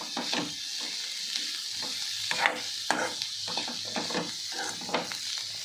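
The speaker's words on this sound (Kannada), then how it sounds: "ಸೇರಿಸಿ ಮತ್ತೆ ಫ್ರೈ ಮಾಡಬೇಕು." Bitter gourd sabzi frying in a pan, a steady sizzle broken by repeated scraping stirs of a spatula, close and alone with no voices.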